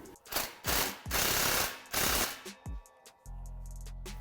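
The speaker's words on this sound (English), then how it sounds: "Get it where you want and tighten it down." A ratchet tightening the stainless steel exhaust tip clamp on a Mustang axle-back exhaust, a series of sharp close clicking bursts followed by a brief steady hum.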